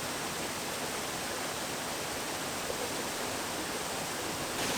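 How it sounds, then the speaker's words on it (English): Waterfall along a trail on Signal Mountain near Chattanooga, Tennessee, heard close up as a loud, constant rushing roar of falling water without any break. "We made it to our first waterfall."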